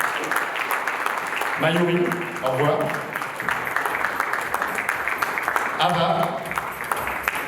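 A crowd at a Miss Mauritius pageant claps steadily throughout while a host speaks over the ongoing applause.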